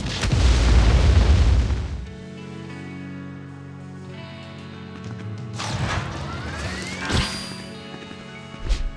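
A heavy explosion from the Howitzer Impact attack in the My Hero Academia fighting game opens with a loud, deep boom, then fades into ringing game effects and a few sharper hits and whooshes.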